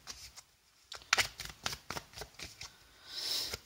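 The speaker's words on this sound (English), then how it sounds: "I want to give this a really good shuffle." Tarot cards are shuffled close up, a series of crisp riffling flicks in quick bursts, followed by a soft sliding rustle.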